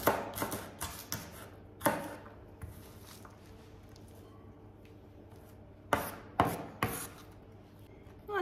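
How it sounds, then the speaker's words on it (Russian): A knife chops rapidly through crisp cabbage on a board, cutting it into thin strips, in quick bursts of sharp strokes separated by a quiet pause. "Для нашей начинки я капусту вот так вот нарезаю соломкой."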